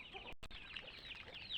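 Free-range desi chickens on a farm give soft, near clucks and murmurs in a steady, continuous stream, with a short break partway through.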